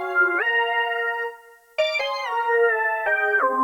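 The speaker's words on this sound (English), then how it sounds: "A little delay." A professional keyboard synthesizer plays sustained, bright chord tones with a delay effect, the notes shifting in pitch and echoing on, loud and close with no voices.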